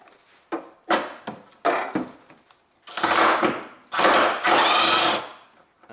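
A power driver spins off the 14mm upper bolts of a Honda Civic left engine mount. It makes short whirring bursts, then two longer, louder sustained runs, close and clear.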